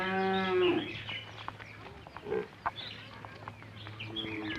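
Cattle moo in long, drawn-out calls at the start and again near the end, with faint bird chirps in between, as a family's herd is led to grazing fields outside a village.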